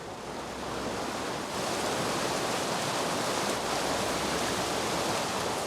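Water rushes steadily into a model of a Liverpool dock to raise it to high tide, a continuous loud hissing wash with no pauses and no voices.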